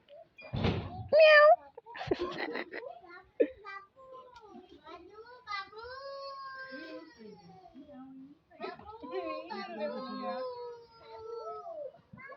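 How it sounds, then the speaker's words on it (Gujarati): A cat meows repeatedly in drawn-out, wavering cries near the listener, with people talking and a few knocks at the start. "મીંદડી આવી આપણી"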